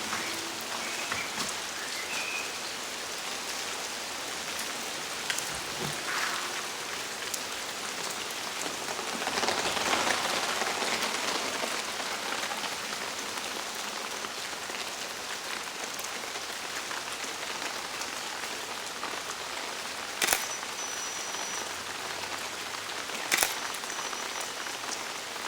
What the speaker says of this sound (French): Maintenant, j'attends juste la pluie. Croyez-le ou pas, je pense que ça va arriver très bientôt.